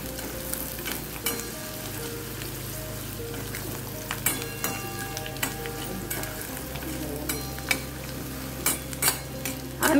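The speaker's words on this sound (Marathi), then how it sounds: "आम्ही आता कांदा चांगला लालसर परतून घेतोय।" Onion fries in a pan for a village-style chicken curry, a steady close sizzle broken by stirring scrapes and light clinks of a utensil against the pan.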